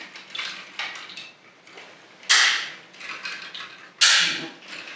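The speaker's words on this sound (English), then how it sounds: "I really don't like the uncomfortable snap sounds these knockoffs make" A plastic knockoff transforming toy robot is bent into shape with a run of small clicks and creaks, ending in two sharp, louder snaps of plastic parts locking into place, all close up.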